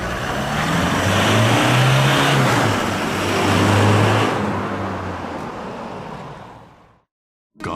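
At medium speed, a Toyota Hilux GUN125 with a Ganador muffler gives a loud steady exhaust note that climbs in pitch, then fades out near the end before cutting to silence.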